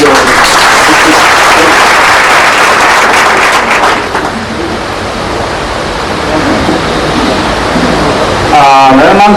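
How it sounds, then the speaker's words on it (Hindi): Loud audience applause bursts out for several seconds, then fades to a softer wash of noise before a voice begins speaking near the end. "जोरदार ताली उसके लिए"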